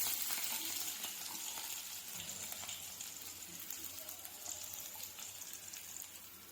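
Onion frying on a low flame in oil with cumin seeds, mustard seeds and green chili, a steady soft sizzle with faint crackles and light stirring throughout, fairly quiet and continuous.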